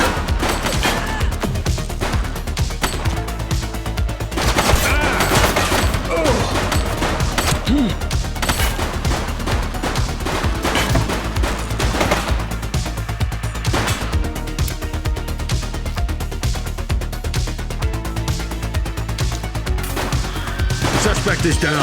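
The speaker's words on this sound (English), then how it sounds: "Shots fired!" Sustained gunfire rattles through a police video game, The Precinct, with repeated loud shots and bursts packed closely together and crashing impacts, and voices calling out in between.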